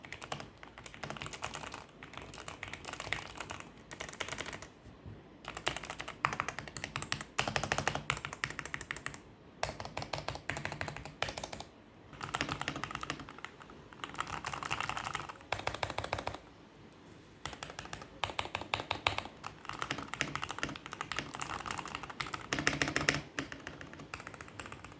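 Rapid, steady typing on a Fantech Maxfit61 mechanical keyboard fitted with black switches and stock keycaps: dense, close-miked clacks and thocks run continuously for about 25 seconds with only brief pauses and no talking.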